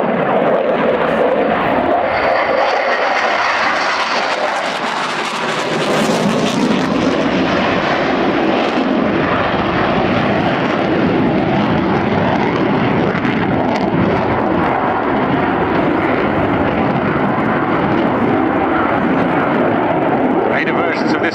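A Czech Air Force Saab JAS 39 Gripen fighter jet performs at an air show, its engine producing a loud, continuous roar that swells and sustains throughout while an announcer's voice is heard over it.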